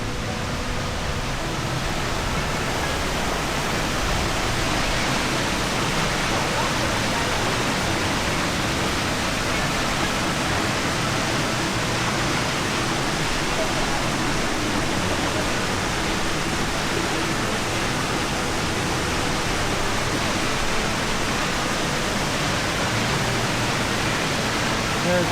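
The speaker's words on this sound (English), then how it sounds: "Always nice when they build a viewing platform just next to the waterfall." Queen Mary Falls waterfall roaring steadily from close by a viewing platform, a loud unbroken broadband rush of falling water that holds constant throughout.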